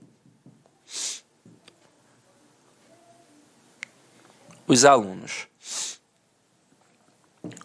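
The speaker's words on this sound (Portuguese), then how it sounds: "não tô fungando porque eu uso droga não, tá? É porque eu tô resfriado" A man with a cold sniffles in sharp, brief nasal sniffs, two clear ones a few seconds apart. A short burst of speech comes between them in an otherwise quiet room.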